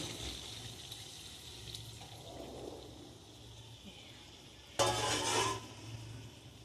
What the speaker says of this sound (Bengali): এবার আমি এতে দিয়ে দেবো গরম জল